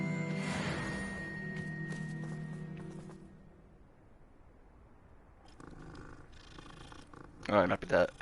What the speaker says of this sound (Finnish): Aina pitää silittää kissa.